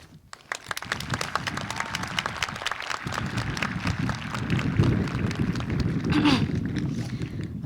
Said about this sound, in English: we owe a huge round of applause to the outstanding teachers